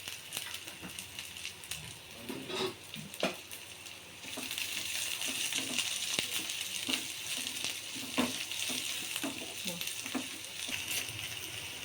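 Goat brain frying in a pan beside a heating pot of tripe curry, a soft continuous sizzle and bubbling with occasional clinks and stirring scrapes, fairly quiet and close.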